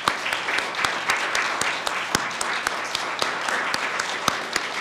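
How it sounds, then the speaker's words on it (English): Audience applause at a lower school oratorical program, a steady patter of many hands clapping at moderate loudness with scattered sharper claps throughout, no talk over it. "Let's give all of our participants a round of applause."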